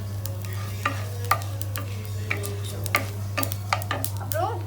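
Cumin seeds fry in hot oil in a pan for curd rice, giving scattered sharp pops and crackles over a steady low kitchen hum, with a utensil stirring now and then.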